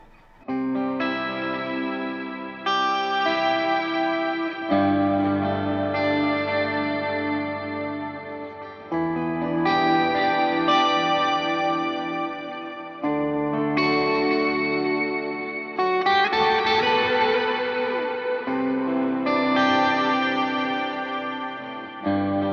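Distorted electric guitar plays sustained chords and lead lines thickened by a lower octave doubling from a POG octave pedal, loud and continuous with brief pauses between phrases.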